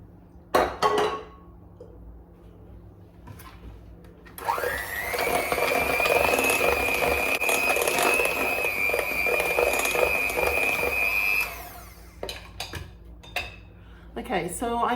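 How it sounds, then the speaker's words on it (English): Electric mixer whirring steadily for several seconds as butter, sugar and egg are beaten into a batter, framed by clinks of a bowl and utensils before and after. "I mixed the egg in there for about a minute or so, just until they're really well combined"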